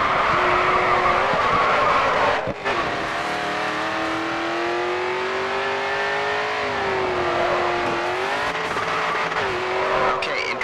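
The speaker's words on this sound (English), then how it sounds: "Nice control. You're carrying good speed into the drift." Race car drifting in the Grid 2 racing game: a steady, loud engine note rises and falls with revs while tyres skid and squeal continuously through the slide, with a brief dip near the start.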